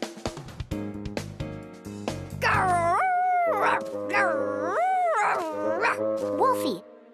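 A cartoon wolf character growls in loud, wavering, howl-like vocal cries performed by a voice, following a short stretch of speech and music.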